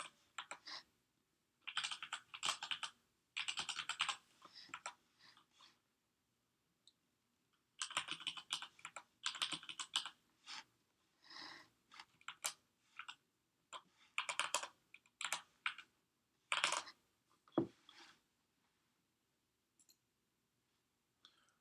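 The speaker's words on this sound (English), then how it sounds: "you can use the tab to get around on the keyboard" Bursts of typing on a computer keyboard, clustered clicks in short runs separated by pauses, close and clear with no talking, as someone enters details on a website registration form.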